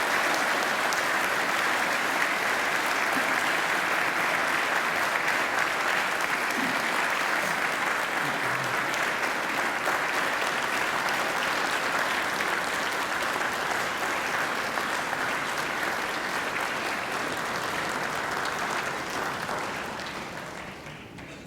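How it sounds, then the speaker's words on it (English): Graduates at a Macquarie University graduation ceremony give their families and friends a long, loud round of applause, a dense roar of many hands in a large hall that holds steady and then tapers off near the end. "And now I invite you to give them a mighty round of applause."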